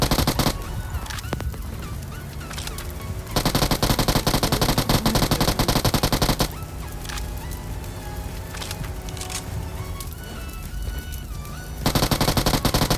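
Rapid automatic gunfire from the mobile battle royale game BGMI, loud bursts of dense shots starting and stopping in several stretches over a steady game soundtrack, with no talk.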